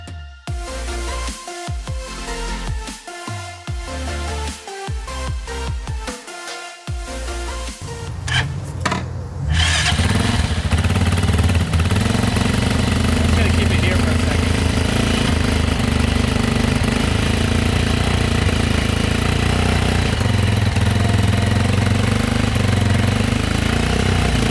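A motorcycle engine that arrived shipped in a box clatters and coughs in short irregular bursts before catching, then runs loud and steady, revving and holding a high drone close by, with no talking.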